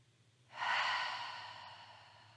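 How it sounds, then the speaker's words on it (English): A single long open-mouth exhale during a yoga session, a soft breathy rush that swells quickly and then tapers slowly away, close and alone. "take a breath in and then find an open mouth exhale"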